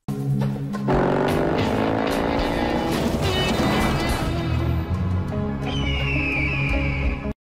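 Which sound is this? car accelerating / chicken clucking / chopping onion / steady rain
car accelerating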